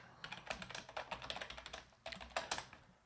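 A command is typed on a computer keyboard in a quick, close run of light key clicks, with a brief pause partway before the tapping resumes.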